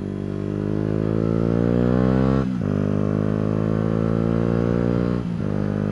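A motorcycle engine, running again after a stall, climbs steadily in pitch, drops briefly twice as if shifting gear, then rises again, loud and close with no talk.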